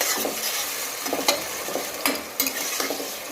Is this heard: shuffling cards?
no